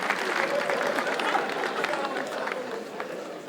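Steady audience applause mixed with crowd noise fills a comedy show venue in Asaba, holding at an even level throughout without clear breaks.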